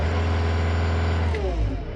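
A Cat 299D2 skid steer's diesel engine runs at a steady, close, low drone, its pitch shifting briefly near the end of the short stretch.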